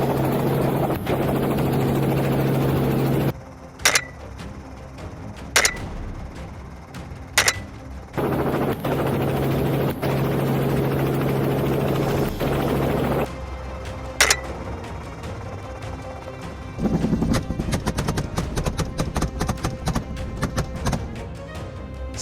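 A helicopter's rotor drone roars steadily, broken by sharp cracks and a rapid burst of gunfire, with abrupt cuts between loud stretches.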